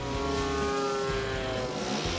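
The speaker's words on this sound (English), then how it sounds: "Planes." Propeller airplanes at the Black Dirt Feast festival make a steady, loud engine drone with a continuous tonal hum, holding without a break and with no voices over it.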